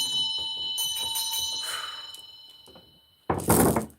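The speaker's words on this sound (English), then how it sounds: "Ring a bell." Bell rung indoors, a sustained ringing tone that slowly fades before a short burst of louder knocking or handling noise at the end.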